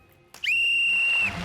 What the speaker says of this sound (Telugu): మీ అందరికి నా విజిల్.